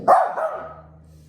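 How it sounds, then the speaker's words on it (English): A dog gives a single loud, close bark, followed by a brief trailing whine as the sound fades out. "Sorry about my dogs, they do not like the garbage truck."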